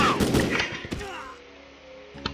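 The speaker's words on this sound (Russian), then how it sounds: "Ну давайте ему тоже кинем гранату." Grenade blast in a video game, a sharp explosion burst with scattered impacts early on, then a fading rumble and a brief click near the end.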